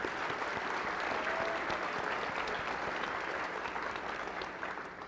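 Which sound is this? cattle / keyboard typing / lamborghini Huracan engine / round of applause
round of applause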